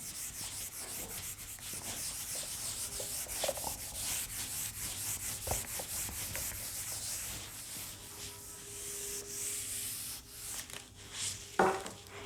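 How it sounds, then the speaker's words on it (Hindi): Writing is rubbed off a board in a biology class, giving a faint, steady scraping that goes on throughout, broken by a few soft knocks and clicks. "इसको मैं रब कर दूं यहाँ से, बस इतना सा रब करना है"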